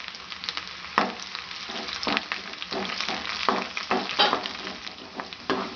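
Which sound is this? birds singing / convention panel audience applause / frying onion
frying onion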